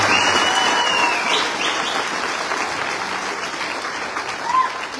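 Loud, sustained applause from a large audience at a stage event in Ranchi, Jharkhand, with clapping filling the whole stretch, swelling briefly near the end, and a few faint high chirps above it.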